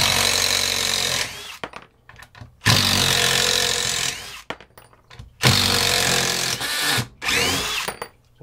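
A Craftsman CMCF820 brushless impact driver backs screws out of a workpiece on a bench in three long, loud bursts of rapid hammering whir, separated by short pauses with clicks and handling noise.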